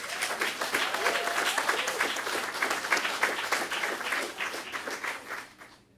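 An audience at a veterinary medicine invention event applauds the mentors, with steady, close clapping that holds for several seconds and then fades out at the end.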